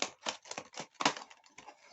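A series of quick, crisp snips in an uneven rhythm, about seven or eight cuts close up, like scissors slicing through paper.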